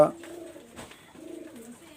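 Two male pigeons with red neck feathers make low rolling coos in two drawn-out phrases, close by, over a faint background hiss.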